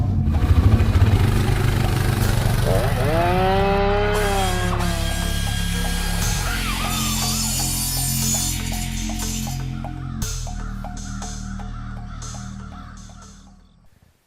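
Massimo T-Boss UTV side-by-side engine idling and stumbling as revs fall below 2,000 RPM, an uneven wavering drone with pitch sags before fading out, close by.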